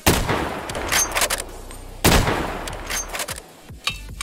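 An Archangel Remington shotgun fires in the game Stalker Anomaly with the BAS weapon mod: two loud, booming blasts about two seconds apart. Each blast has a reverberant tail and scattered mechanical clacks.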